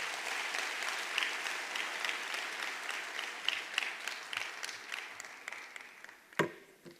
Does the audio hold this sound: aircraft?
no